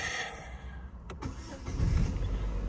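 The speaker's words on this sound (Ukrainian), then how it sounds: "Заводимо машину" An Opel Vectra C cranks briefly on its starter, then catches and settles into a low, rumbling idle, heard close up with no talking.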